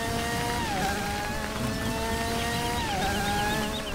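A race car engine in a driving video game revs steadily with harmonic whine, pitch dipping and climbing twice as it shifts, loud and continuous with no talking.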